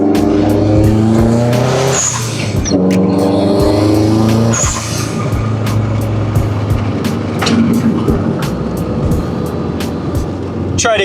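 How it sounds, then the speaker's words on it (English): A 1995 Nissan S14 drift car sits in a garage, its engine loud and close, rising in a couple of revving surges before settling into a rough, sputtering idle. "Try to keep the noise to a minimum here. I know it's not the quietest car."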